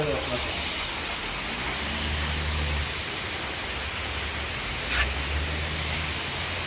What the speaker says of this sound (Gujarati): બપોરના વાગ્યા 3 ને વરસાદ ચાલુ થયો છે